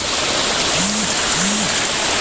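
Loud, continuous rush of a waterfall at the Phaya Kupri viewpoint, water falling from a high hillside after rain, fills the scene close by, with two brief low whistle-like tones rising over the steady roar.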